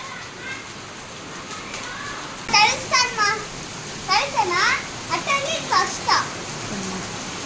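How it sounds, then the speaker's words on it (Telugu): Hail falls during a rainstorm in Tirupati, a steady dense patter on a sheet-roofed house, with children's voices calling out over the noise. "ఐస్ గడ్డలు పడుతున్నాయి"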